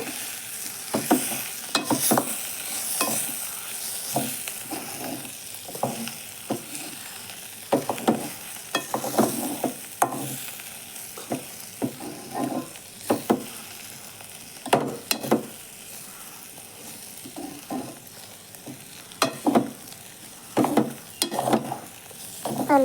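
Powdered roasted gram mixed into a pan of masala over a low flame, a soft sizzle beneath repeated scraping stir strokes at an irregular pace, near and moderately loud, no talking.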